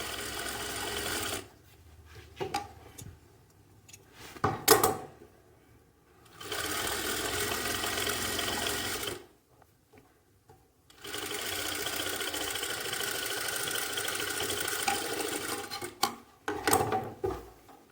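A sewing machine stitches the side seam of a jacket in several bursts of steady mechanical whirring, the longer runs lasting a few seconds each and broken by short stops, close and clear.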